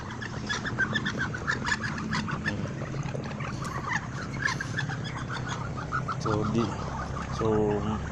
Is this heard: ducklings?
yes